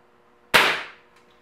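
A Crosman Legacy 1000 air rifle fires a single shot in a garage range, one sharp, loud crack with a quick decaying tail and a faint later tick, no talk.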